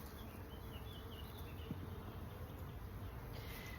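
Honeybees buzz steadily around an open hive during an inspection, a dense, continuous drone with no talk, faint and even throughout.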